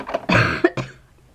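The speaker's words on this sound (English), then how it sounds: "Sorry, I still have a bad cough." A person with a bad cough coughs several times in quick succession while working at a craft table, sharp and close, then stops into quiet.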